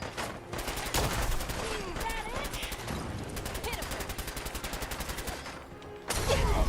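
Harpoon gun fire in the video game Fallout 4 comes as dense, rapid volleys of shots that crackle almost nonstop at a close, steady level amid other battle noise, ending in a louder burst.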